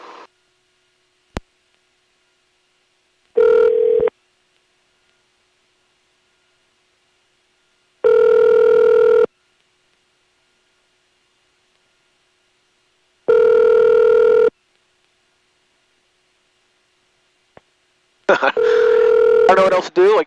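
A telephone call to an air traffic control number goes unanswered, with a ringback tone repeating at spaced intervals, several evenly timed bursts separated by long stretches of quiet, fairly loud and clear.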